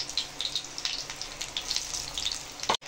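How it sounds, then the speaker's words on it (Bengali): Eggplant slices, four at a time, frying in hot oil for crispy Bengali kurkure begun, giving a steady close sizzle and crackle with scattered bright pops, ending in a sudden brief cutoff. "তেলের মধ্যে আমি চারটে দেবো।"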